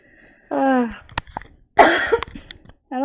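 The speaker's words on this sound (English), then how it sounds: "don't know why I'm coughing so much." A person in a class coughs close by, a harsh voiced burst followed by a longer rough cough, with short throat-clearing-like sounds between them.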